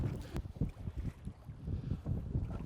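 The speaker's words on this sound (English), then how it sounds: "you may notice that the wind has really come up" Strong wind on a lake buffets the microphone in low, rumbling gusts that rise and fall irregularly, loud and close, with no voices.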